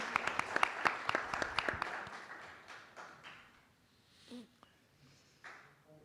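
A church congregation at a bilingual Pentecost service gives a short burst of applause with sharp individual claps that quickly thin out and fade, leaving a few scattered claps and quiet room sounds.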